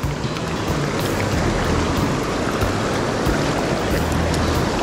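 A steady, dense roar of a waterfall on a mountain trout stream in Andorra, heard nearby, continuous and fairly loud with no voices.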